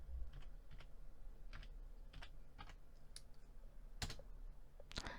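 Someone types at a computer keyboard while entering accounting vouchers, with light irregular keystrokes and a couple of sharper clicks, heard close and quietly with no speech.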